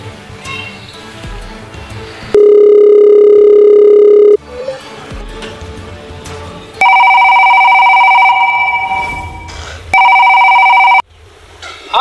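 A telephone rings during a call in a rural comedy skit: a loud, steady electronic tone gives way to two bursts of a bright, buzzing ring, all over faint background noise.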